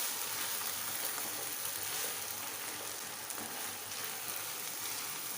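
Homemade pizza sauce cooking in a pan gives off a steady, soft sizzle and bubbling hiss that stays fairly quiet and even throughout, with no talking.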